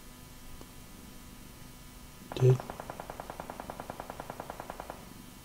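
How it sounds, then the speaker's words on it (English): Distant automatic gunfire in the mobile video game PUBG Mobile, a faint rapid string of evenly spaced shots following one louder thump, with steady low background noise. "Hearing gunfire, but not seeing an awful lot."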